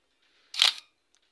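Shutter release of a Minolta X-700 film SLR camera: one crisp mechanical snap, close and alone in a quiet room, followed by a faint tiny click.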